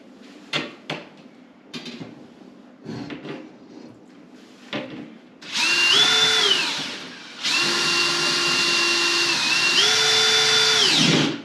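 A power drill whirs loudly in two sustained bursts while installing a ceiling downlight, its pitch dipping and rising under load, after a few short clunks and rattles.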